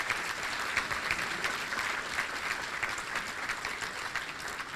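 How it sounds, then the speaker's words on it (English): A dinner audience applauds the board of directors with steady, dense clapping from a crowd, heard at moderate distance and holding at an even level throughout. "Let's give them a big round of applause."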